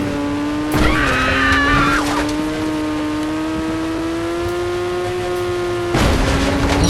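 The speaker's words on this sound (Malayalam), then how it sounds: "നല്ല സ്പീഡുണ്ട് ഗൈസ് ട്രക്കിന്." A video game truck's engine holds a steady rising tone, with a squeal of skidding tires near the start and another burst at the end, loud and close with no talk.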